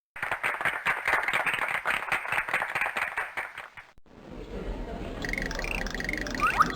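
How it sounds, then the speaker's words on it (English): Cartoon audience applause in the Freddi Fish 3 adventure game: dense rhythmic clapping for about four seconds that stops abruptly, followed by game music with whistling tones. "Let's hear some applause."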